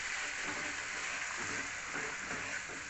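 Chopped tomatoes sautéing in a pan for a Tamil fish curry, giving a steady, even sizzle that holds close and constant with no break and no voices over it.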